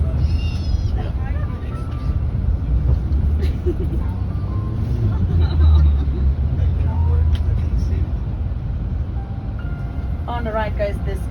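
Paris street traffic rumbles past a tour bus, with cars passing close by in a steady low roar under chatter and faint background music.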